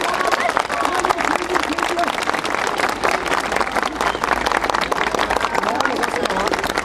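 A crowd at the opening of a neighborhood election office in Kırıkkale claps loudly and continuously, dense close applause mixed with a murmur of voices and chatter throughout.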